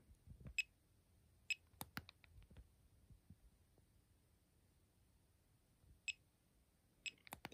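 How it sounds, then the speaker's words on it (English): A few short, high-pitched electronic beeps from a finger pulse oximeter, spaced irregularly, with soft clicks and button presses in between, in an otherwise quiet room. "here's the beep."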